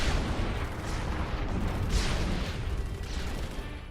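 Bombs rain onto a reactor in Supreme Commander 2, a dense continuous barrage of rumbling booms and crackling blasts, loud and sustained throughout with no voices.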